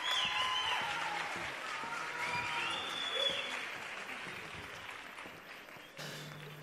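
Audience applause for a children's choir of kids aged 3 to 11 at a Christmas carol contest, a steady wash of clapping that fades slightly before a brief louder swell near the end.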